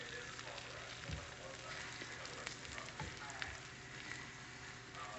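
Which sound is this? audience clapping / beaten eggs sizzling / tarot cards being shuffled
beaten eggs sizzling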